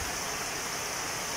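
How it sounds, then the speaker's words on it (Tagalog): Heavy afternoon rain falls behind a house near planted rice paddies, a steady soft hiss of drops with no break across the short stretch, fairly faint and unbroken by voices. "Heavy rain."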